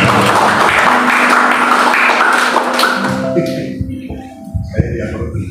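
A congregation at an apartment worship service claps for about three seconds, loud and close, then the clapping thins out and gives way to voices and tones.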